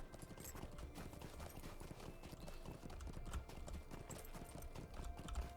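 Horse hooves clip-clop in a steady, continuous rhythm while riding outside the gates of Thorin's Hall in Lord of the Rings Online, fairly faint over an ambient game background with no talk.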